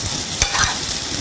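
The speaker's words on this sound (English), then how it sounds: "You're going to add in the potato mixture now." Potato filling for samosas being stirred into a hot pan, a brief scraping stir over a steady low sizzle, close and alone without talk.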